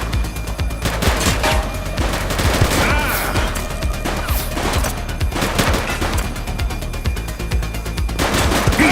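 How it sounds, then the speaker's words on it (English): Rapid bursts of gunfire from police shootout in the video game The Precinct, dense and loud throughout with repeated volleys and crashes, under faint voices. "Light them up! Shots fired!"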